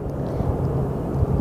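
Fixed-wing airplane landing on runway 25 left at Phoenix Sky Harbor Airport, a steady distant low roar of engine and rushing air, continuous and fairly loud with no voices.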